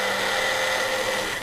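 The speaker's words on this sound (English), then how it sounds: "we'll give it a little pulse in the blender" A blender whirs steadily with a dense, loud motor roar and hum as it pulses a banana protein shake, with no voices.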